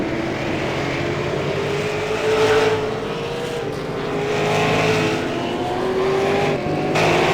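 Pro late model stock cars race around Lanier National Speedway, a continuous loud engine roar rising and falling as the pack circles the oval, with cars swelling past at close range.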